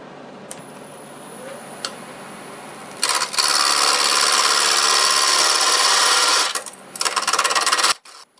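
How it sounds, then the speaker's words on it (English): A parting tool cuts a tenon on a wood lathe, starting as a quiet running hum, then a loud, harsh scraping cut that holds for about three seconds, pauses, and bites again briefly before stopping. "I've got a parting tool, and I'll go ahead and get a tenon on here."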